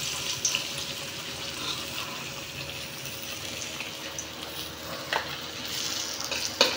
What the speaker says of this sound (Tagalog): maghugas na tayo ng hugasin para pagkatapos magluto, malinis na rin ang lababo